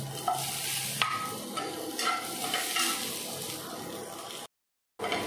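Cauliflower fries in a pan for oats upma, a soft close sizzle with occasional stirring clicks, cutting out abruptly to silence for a moment near the end.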